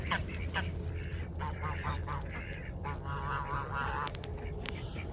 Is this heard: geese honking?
yes